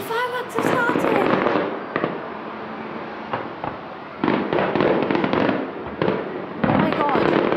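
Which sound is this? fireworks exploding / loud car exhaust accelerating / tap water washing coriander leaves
fireworks exploding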